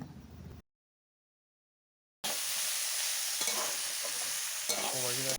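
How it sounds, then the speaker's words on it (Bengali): Mixed vegetables seasoned with turmeric and chili powder fry and get stirred in a pan, giving a steady, close sizzle with scraping spatula strokes after a short silent gap. "হলুদ গুঁড়ো লঙ্কা গুঁড়ো দেওয়ার পর সব সবজির সাথে ভালোভাবে আমি ভেজে নিয়েছি"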